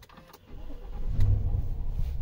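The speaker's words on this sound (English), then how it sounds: "So powering on the Cadillac Escalade" A Cadillac Escalade starting up, a low engine rumble building steadily from near silence and holding as a steady idle, close and fairly loud with no talk.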